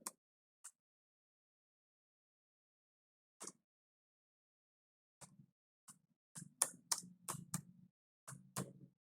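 HTML code is typed on a computer keyboard in quiet, sparse bursts of crisp key clicks that quicken into short runs toward the end.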